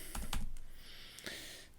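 A brief burst of keystrokes on a computer keyboard, several close clicks and taps over a steady background hum.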